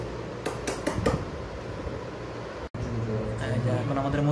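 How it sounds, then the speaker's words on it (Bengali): A knife chops green chilies finely for a mashed mango dish, giving about four quick taps on a board early on and a light clatter of kitchenware, with faint background voices. "এখন আমাদের মরিচ কাটা হচ্ছে"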